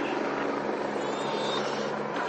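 Rescue helicopter hovering over flooded homes, a dense, steady rotor and engine roar filling the scene at constant loudness with no voices.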